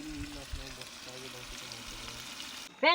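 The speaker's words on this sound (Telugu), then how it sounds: "మనం మ్యారినేట్ చేసి పెట్టుకున్న చికెన్ వేసుకున్నాం" Marinated chicken frying in masala over a campsite cooking fire in the hills, giving a steady close sizzle and bubbling that runs throughout, with a brief sharper clatter at the very end.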